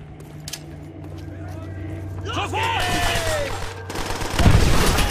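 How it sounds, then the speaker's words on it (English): Gunfire in the Call of Duty: World at War sniper mission, rolling bursts and distant shots over a low rumble, swelling into a louder volley near the end, with dialogue and shouting over it. "Take the shot, Dimitri."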